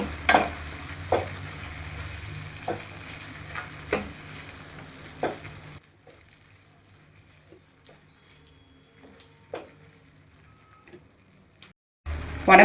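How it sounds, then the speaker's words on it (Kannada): Beetroot halwa stirred in a pan, a spoon scraping in a few distinct strokes over a steady low cooking hiss for about six seconds, then a quieter stretch with faint occasional clinks. "ಈಗೆಲ್ಲ ಮಿಕ್ಸ್ ಮಾಡಿಬಿಡೋಣ."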